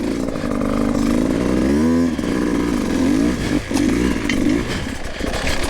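A dirt bike engine drones steadily and loudly up close as the rider carries momentum toward railroad tracks, its pitch wavering and dipping briefly mid-way as the throttle eases and rolls back on.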